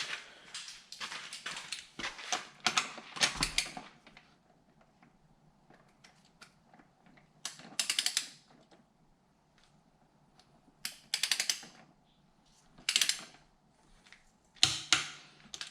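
Torque wrench tightens wheel bolts on a 2014 VW Touareg TDI in a star pattern to light torque, giving short bursts of ratcheting clicks separated by quiet pauses, close and crisp.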